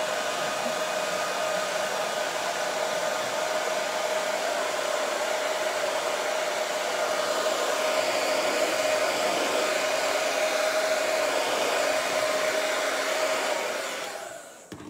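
Loud dryer blowing steadily and continuously, used to dry paint on a wooden paddle, the roar running alone until it cuts off at the end.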